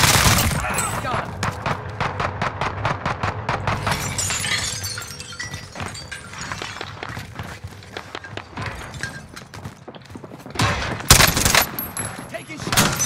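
Rapid sniper and automatic gunfire in the video game Warzone Rebirth, a dense stream of loud sharp cracks and bursts with a hard blast near the end, under excited voices of players talking.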